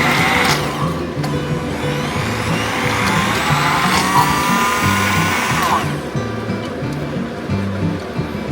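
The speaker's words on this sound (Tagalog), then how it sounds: "I-blender natin para maging mas smooth" A kitchen blender whirs coconut milk with aromatics for a Filipino shrimp and asparagus dish, a loud continuous motor whine with swirling liquid and one clear shift in pitch partway through.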